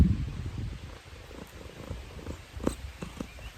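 Cleopatra, a pet cat, purrs in a close, soft, steady rumble with a few light bumps and rustles, and no one speaks.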